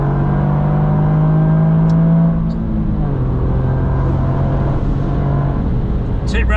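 A Toyota GR Yaris on the Nürburgring Nordschleife, its engine loud and close with a steady droning tone that shifts pitch as the car powers out of a corner, with a few faint high clicks near the end.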